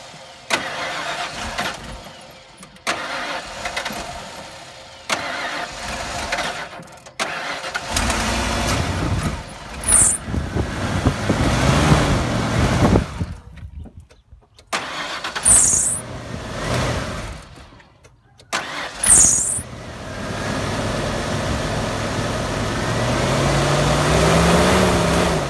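Engine of a 1996 Ford F-350 with the 7.5L 460 V8, after sitting over a year, cranks repeatedly in several attempts, sputters and catches, with brief squeals, then settles into a rough steady idle, loud and close.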